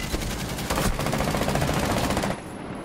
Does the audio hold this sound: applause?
no